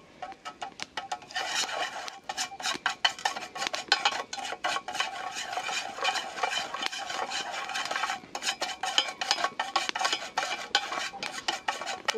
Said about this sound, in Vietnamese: bên đây thì mình sẽ thắng cái phần nước màu này để xíu nó kho cá nè